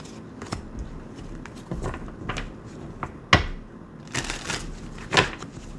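Tarot cards shuffled and flicked by hand during a reading, a run of soft papery riffles and slaps with a few sharper snaps, close and fairly quiet with no talking.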